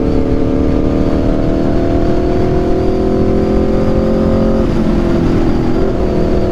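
An Aprilia RSV4 motorcycle fitted with an SC-Project exhaust ridden fast, its loud engine droning close up with a steady high-revving tone that drops briefly near the end as the rider shifts.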